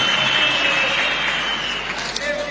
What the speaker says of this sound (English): Ah, clap for him.